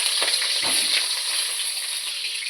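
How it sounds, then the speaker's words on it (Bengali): Cut potatoes fry in oil in a kadai, making a loud, steady, close sizzle with a few soft stirring scrapes near the start. "আলুটা আমি ভেজে নেব।"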